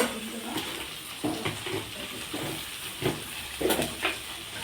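Food sizzling and hissing in a frying pan, a steady moderate crackle with occasional louder spatters and stirring knocks, fairly close and without talk.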